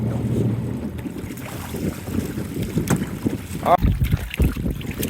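Strong wind buffets the microphone on a fishing boat out on open water, roaring and gusting in uneven bursts with water and boat noise underneath and a few muffled knocks.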